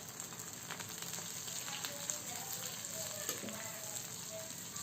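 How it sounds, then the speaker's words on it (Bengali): Chopped garlic sizzling in hot mustard oil while frying spring onion greens with egg: a steady, even crackle and hiss that holds for the whole stretch at moderate level, with no voices over it. "আমি এখানে অল্প পরিমাণে কিছু রসুনের কুচি দিব।"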